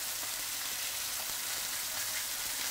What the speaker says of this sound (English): You're gonna want these to cook all the way through on the stovetop, so make sure that they're cooked through.